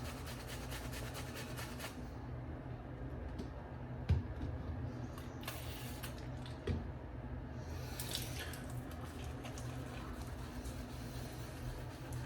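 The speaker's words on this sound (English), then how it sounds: "I need to get some more water into this." Steady running water from a tap, a continuous low hiss and splash with a couple of faint clunks, fairly quiet and close.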